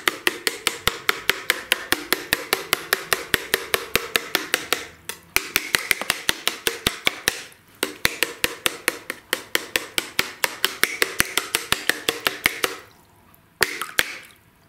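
Hammer blows striking a Sony Xperia Z5 Compact phone underwater, sharp close taps in fast runs of rapid strikes with brief pauses between bursts, no talking.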